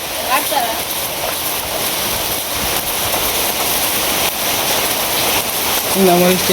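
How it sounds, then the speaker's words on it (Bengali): Heavy rain pours steadily outdoors during open-air cooking, a loud, even hiss filling the background while people talk over it. "এই বৃষ্টির মধ্যে দেখবেন যা সব উল্টায় আলতাছে"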